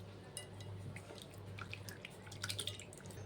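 Flattened rice (chira) being rinsed with water in a bowl, a soft steady wash of trickling and dripping water with scattered small splashes, faint and close, with no talk.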